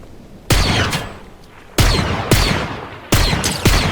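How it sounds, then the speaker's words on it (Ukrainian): Gunfire in the Fortnite video game: several loud, close bursts of shots, four or five separate volleys with short gaps, each ringing out briefly before the next. "там хтось стріляється"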